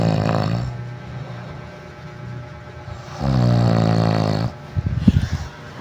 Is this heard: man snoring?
yes